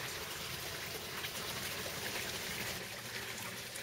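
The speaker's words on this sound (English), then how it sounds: "So the water comes down, has to travel in between these filter pads that are kind of just put in" Water trickles and streams steadily through filter pads in an aquaponics greenhouse, a close, continuous splashing wash with no pauses and no voices.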